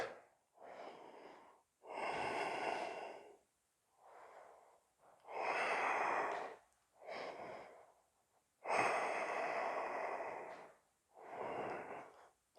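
Strong, deep breathing during a back-strengthening yoga flow, with long loud inhales and exhales in a slow, even rhythm that repeats about seven times, close up and with no talking.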